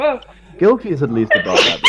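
A single sneeze bursts out loud and close near the end of a short stretch of conversation, with people talking over it during a tabletop roleplaying game session.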